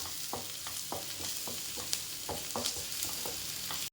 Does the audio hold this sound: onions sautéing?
yes